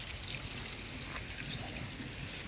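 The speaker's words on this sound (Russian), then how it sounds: "Здесь такой ручей." A small stream near the Khal-Khal waterfall in Oğuz, Azerbaijan trickles softly and steadily, a faint, even babble of water with no other sounds over it.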